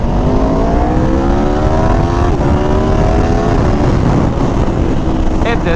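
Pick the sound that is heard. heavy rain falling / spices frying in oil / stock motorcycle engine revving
stock motorcycle engine revving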